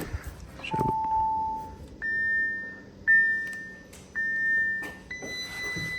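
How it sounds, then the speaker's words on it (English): Audi SQ5 with its ignition switched on, a series of clear electronic warning chimes: one longer low tone followed by four higher sustained beeps at roughly one-second intervals, nearby and alone over a faint background. "So just turn on the ignition."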